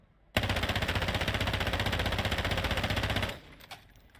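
Sustained automatic gunfire in Call of Duty DMZ, a rapid steady burst of close, loud shots lasting about three seconds before abruptly stopping, followed by faint clatter.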